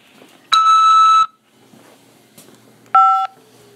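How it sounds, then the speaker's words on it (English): Two bright electronic keypad tones from a phone, a longer press followed by a shorter one after a pause, each ringing clearly over faint line hiss while an inmate call from a Nebraska jail is being accepted. "press 5 to accept this call"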